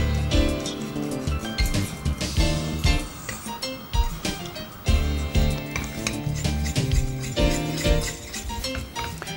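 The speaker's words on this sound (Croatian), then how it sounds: "te stalno miješajući pjenjačom dodajemo palentu i kuhamo po uputama na pakiranju" Polenta being stirred constantly with a whisk in a pot, with repeated scraping and clinking strokes and a soft bubbling sizzle, close and fairly loud, with music playing underneath.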